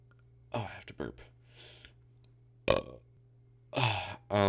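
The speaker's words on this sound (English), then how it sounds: "Oh, I have to burp." A man burps once, loud and close, amid bits of quiet mumbling and breathy sounds.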